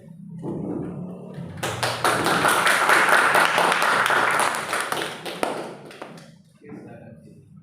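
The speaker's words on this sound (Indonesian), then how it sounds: "tepuk tangan untuk top" A school audience claps during a student branding and design presentation session. The clapping comes in a dense burst of several seconds, with voices murmuring before and after.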